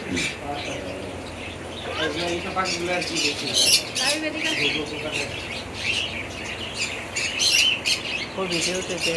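Pet doves and cockatiels chirp and squawk in a busy, overlapping chorus close by, while people talk throughout.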